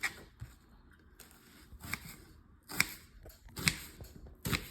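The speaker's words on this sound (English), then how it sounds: "First, we're gonna cut up a half an onion." A knife chops through half an onion on a cutting board, several irregular crisp cuts with pauses between them, close and moderately loud, with no voices.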